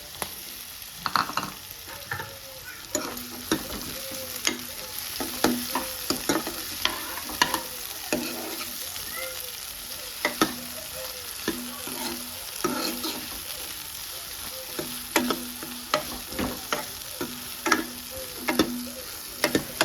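Onion, carrot and tomato sizzle and fry in a pan while being made for Maggi noodles, with a continuous crackle and repeated scraping stirs of a spoon throughout.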